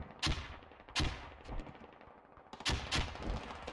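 Gunfire and grenade blasts in the Squad Ops video game during militia close-quarter trench combat, with several loud sharp bursts spaced irregularly over a steady battle din.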